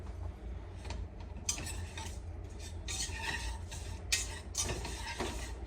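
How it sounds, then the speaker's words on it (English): Flour and brown sugar are whisked together in a saucepan, with bursts of quick scraping strokes and light metallic taps against the pot, close and moderately loud. "we want to whisk the flour and the brown sugar together before we add anything else"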